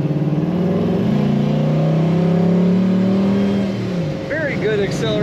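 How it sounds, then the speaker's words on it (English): A 1967 Chevrolet Chevelle two-door hardtop accelerates hard. Its loud engine roar climbs steadily in pitch, then drops and eases off, with a brief shift-like change near the end. "Very good acceleration and power from this car."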